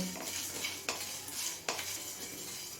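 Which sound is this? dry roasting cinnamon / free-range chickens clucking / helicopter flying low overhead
dry roasting cinnamon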